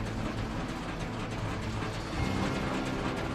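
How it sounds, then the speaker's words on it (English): Twine wrapping mechanism of a 2019 Krone Bellima 130D round baler, with a steady loud mechanical whir and rattle of gears and drivers running continuously, growing slightly heavier near the end, with no talking. "You start twine wrapping with a touch of a button."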